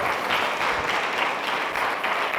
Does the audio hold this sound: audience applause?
yes